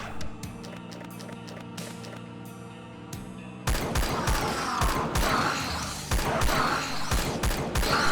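Gunshots in the video game Age of Hell, sharp repeated shots that open as spaced cracks over a droning soundtrack and then give way to a denser, louder volley of rapid fire.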